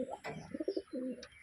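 Pet pigeons coo close by in a short burst of soft, pulsing low calls, with a few distinct throaty notes in quick succession.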